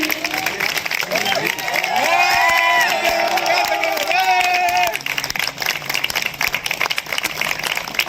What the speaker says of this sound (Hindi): एक बार जोरदार तालियां रोजी जी के लिए